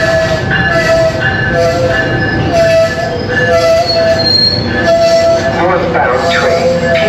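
A train pulls into a station with its wheels squealing loudly in long sustained tones that rise and fall, heard nearby over a rumbling rail background, with some faint voices in the mix.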